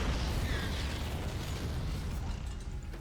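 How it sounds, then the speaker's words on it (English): Siege tank fire in a StarCraft II Terran-versus-Terran match: a dense, continuous rumble of booming shots and bursts with a low, heavy roar sustained throughout. "Tank shots going up."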